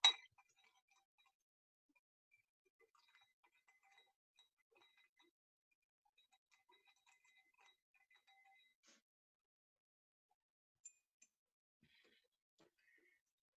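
Ice clinks lightly against a glass as an Old Fashioned cocktail is stirred, a string of faint, close taps and rattles, sparse and irregular, in an otherwise quiet room.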